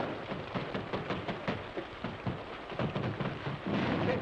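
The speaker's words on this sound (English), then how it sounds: "Holy smokes, it's raining." Steady, heavy rain hisses continuously, with low rumbles rolling underneath and no voices.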